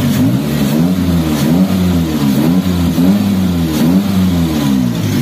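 Chery Tiggo 2.0 engine running after a cylinder head gasket repair, a steady close-up engine drone with a rhythmic low throb and small rises in pitch like light throttle, no knocking evident.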